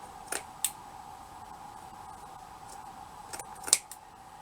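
A few quick scissor snips cut through a piece of material for a shabby vintage fabric flower, sparse and close against a quiet steady background hum.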